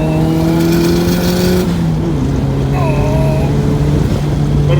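A turbocharged Honda Civic cruises down the road, its engine droning loudly and steadily, with the pitch shifting as it changes speed and faint background noise around it.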